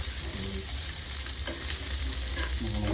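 Fish fingers and shrimp frying in oil in a pan, a steady close sizzle with a few faint clinks of utensils and no talking.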